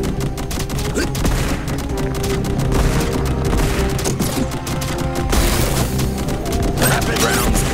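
Rapid gunfire in Contra Operation Galuga, a dense, loud, continuous barrage of shots layered over game music and explosions, with no break across the stretch.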